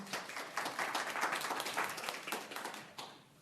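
Clapping from the audience at a county board of supervisors meeting, a full round of many hands at moderate level that holds steady and then fades out.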